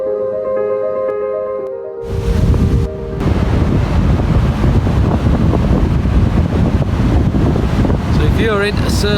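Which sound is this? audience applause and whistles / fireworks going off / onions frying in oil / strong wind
strong wind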